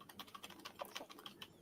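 Rapid, soft, steady tapping on a non-mechanical computer keyboard, close but quiet, continuous with no talk.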